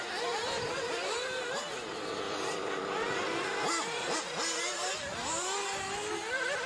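Several 1/8 scale nitro RC buggies race in an expert-class main event, their small high-pitched engines whining and revving as they accelerate and pass, overlapping buzzes rising and falling steadily throughout at close to medium range.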